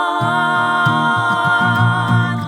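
A full choir of layered voices sings in close harmony, several parts stacked into a loud, rich chorus.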